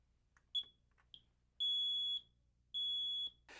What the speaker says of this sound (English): we still need to have working smoke alarms installed to tell us when there's smoke in the home